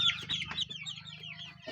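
Young chickens about ten days old cluck and peep continuously at close range, with a steady chorus of overlapping calls and a low hum underneath.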